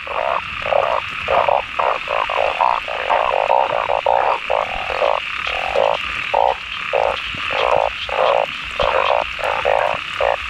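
Narrow-mouthed frogs croak in a dense, loud chorus, rapid pulsed calls repeating in a steady rhythm close by, with a high insect-like drone underneath and no voices.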